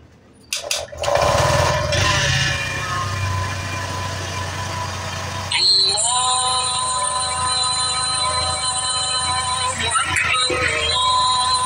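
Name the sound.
Honda Vario 125 scooter engine starting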